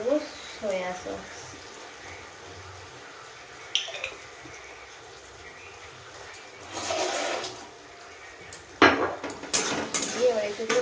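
Utensil scraping and clinking in a pan as soy sauce-coated food is stirred, with short bursts of metal clatter and wet shuffling in separate spells, under a voice speaking.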